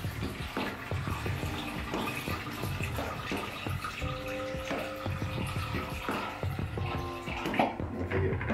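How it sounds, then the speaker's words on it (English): Kodak Flexicolor C41 developing chemical being poured back into a film developing tank at home, a continuous splashing, gurgling liquid flow with small clinks, close and fairly quiet. "on the five, I will pour it back in"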